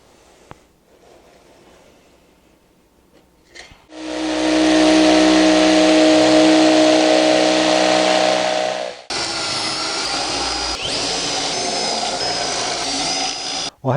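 A power tool cuts a 6.5 by 6.5 inch notch in the back of a wooden router table panel, whining loudly and steadily for about five seconds, then running again with a different pitch for several more seconds.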